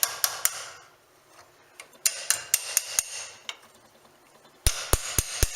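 A horseshoe nail is hammered around a steel ring mandrel, giving bursts of sharp metallic taps in quick close succession. The loud clusters are separated by a brief quieter pause.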